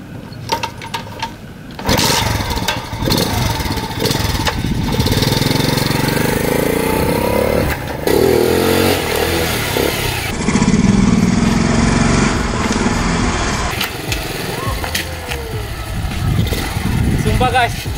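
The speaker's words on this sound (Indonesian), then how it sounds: "Gua akan kasih ke kalian habis ini part dimana gua akan starter nih motor" A small Gorilla motorbike engine starts after a moment of quiet and then runs loud and steady with an uneven, buzzing putter, as people talk over it.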